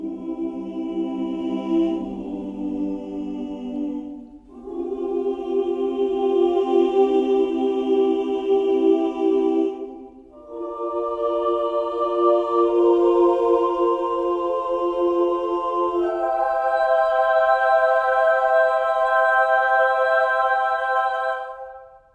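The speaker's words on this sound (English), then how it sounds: "So Time Macro actually has a beautiful choir from Orchestral Tools," A virtual mixed choir from an Orchestral Tools library, using the sustained "oo" vowel patch, sings a slow sequence of rich, ethereal chords that rise in pitch, each held for several seconds with no talking over it.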